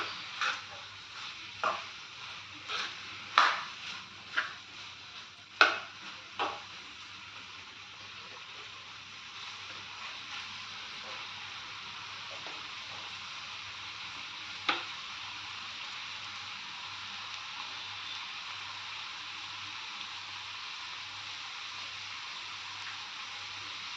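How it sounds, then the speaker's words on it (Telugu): Cauliflower frying slowly in oil gives a steady, soft sizzle for the whole stretch, with a few sharp ticks and pops near the start and one more later. "ఆయిల్లో ఎంత మెల్లగా ఫ్రై అవుతే అంత బాగుంటుంది."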